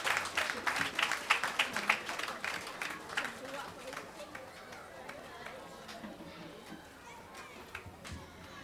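Scattered clapping from parents at a school Parents' Day gathering, fairly faint and uneven, with children's voices and chatter mixed in.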